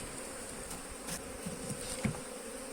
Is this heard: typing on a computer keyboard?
no